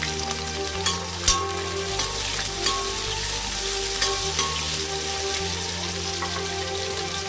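Onions and carrots sizzle steadily in a hot pan, with occasional scraping knocks of a utensil stirring them, close and continuous.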